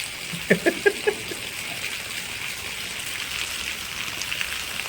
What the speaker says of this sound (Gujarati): ઝરમર ઝરમર પડે છે